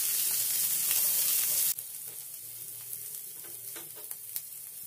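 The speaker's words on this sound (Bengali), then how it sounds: "এবার এগুলোকে 2 মিনিটের মতো নেড়ে চেড়ে নেব।" Chopped onion, capsicum and green chili stir-fried in a pan, a loud hiss that drops suddenly to a softer sizzle, with light scraping stirs and clinks near the end, no speech.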